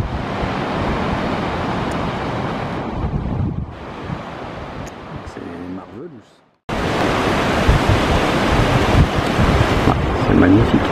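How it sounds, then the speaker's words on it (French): Waterfalls near the Glacier Blanc in the Hautes-Alpes rush as a loud, steady broadband roar with wind buffeting the microphone, briefly dipping before surging back at full strength. "il y a toutes nos jolies cascades qui sont devant là"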